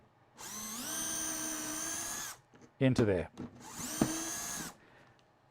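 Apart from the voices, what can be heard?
power drill drilling a hole through a Kreg PARF guide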